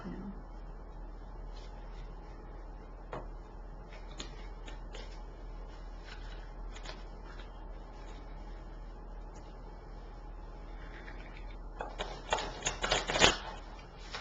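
Soft, quiet tarot card shuffling with scattered riffles and taps, growing into a brief louder burst of shuffling near the end.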